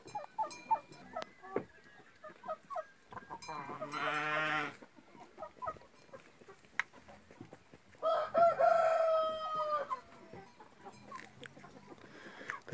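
A rooster crows twice, with short calls and clucks from the same bird in between and faint voices in the background.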